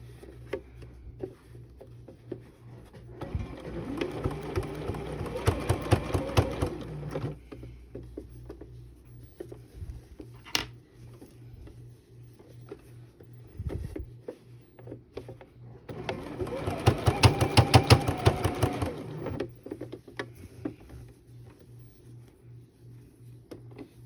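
A sewing machine topstitches fabric sleeves in two bursts of rapid stitching, the first running about four seconds and the second about three seconds near the end, with quiet pauses between and faint handling noises.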